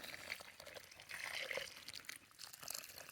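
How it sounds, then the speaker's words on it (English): B vitamin solution is emptied from a container onto the soil around a newly planted apple tree outdoors, a soft, fairly faint pouring trickle with splashy bursts and no talking. "just go ahead and empty that out here"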